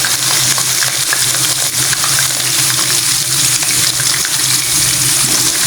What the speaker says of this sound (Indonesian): ini sekarang menggoreng ikan terinya